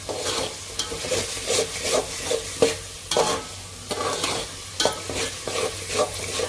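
Red chutney spice paste for a mixed vegetable dish is fried in oil and stirred briskly, with repeated rhythmic scraping of a spoon across the pan over a constant close sizzle. No voices are heard.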